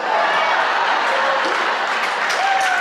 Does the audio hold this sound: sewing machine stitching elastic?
no